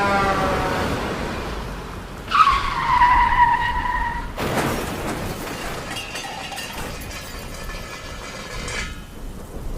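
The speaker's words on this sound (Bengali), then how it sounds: "অভিকের গাড়িটিকে ওভারটেক করার সময় তার গাড়ির একপাশে সজোরে ধাক্কা মারল পণ্যবাহী লরিটি।" A cargo lorry sideswipes a car while overtaking on a road in heavy rain: steady rain hiss, then a sudden loud impact with a squealing skid as the car spins, followed by continued grinding and road noise.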